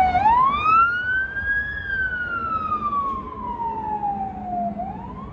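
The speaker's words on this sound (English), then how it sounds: "sirens" A single wailing siren sweeps slowly up and then down in pitch, clear and fairly close, over a low rumble of traffic.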